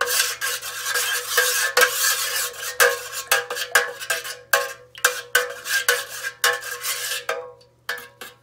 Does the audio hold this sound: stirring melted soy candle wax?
yes